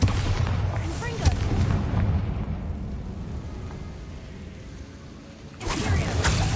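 Spell explosions from Bombarda and Confringo in Hogwarts Legacy, with a loud burst at the start that fades into a lull before another strong blast erupts near the end.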